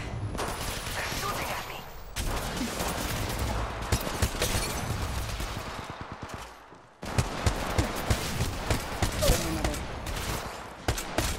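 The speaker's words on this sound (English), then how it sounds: "Getting shot at." Rapid bursts of automatic gunfire in Apex Legends Mobile, loud and close, with sharp repeated shots broken by a brief pause, mixed with game effects and a voice speaking.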